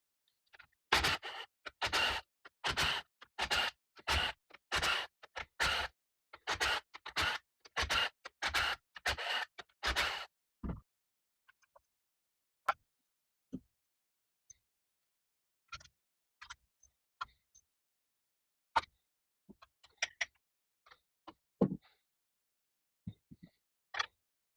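A ratchet or power tool works on the 10mm cam cap bolts of a 2004 Mustang GT 4.6 2V engine, giving a rapid run of sharp, loud clicking bursts, then scattered lighter clicks and taps as the bolts come out.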